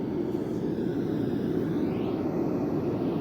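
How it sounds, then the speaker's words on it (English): A steady, uniform hiss of broadband noise, loud and unchanging, with a faint airplane-like rushing quality and no voices. "let's listen to white noise together. Kind of sounds like an airplane."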